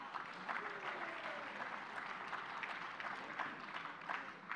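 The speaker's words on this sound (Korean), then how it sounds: "여러분, 이종걸 최고위원님께 큰 박수 부탁드리겠습니다." Audience applause at a Democratic United Party presidential primary gathering in Gangwon: a sustained, even wash of crowd clapping that holds steady throughout, heard from a moderate distance with no talk.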